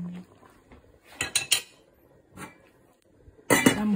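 A utensil stirring chicken stew with tomato sauce in a cooking pot, giving several sharp metallic clinks and scrapes in irregular bursts, the loudest toward the end, close by.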